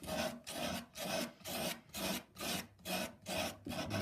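Rough abrasive rubbing across a wooden flamenco guitar heel being shaped by hand, a steady back-and-forth rasp in about nine even strokes, close and fairly loud with no talking.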